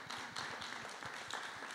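A community design charrette audience gives a short round of applause for a private citizen, a local restaurant owner: a faint, even patter of many hands clapping from across a room, with no talk over it.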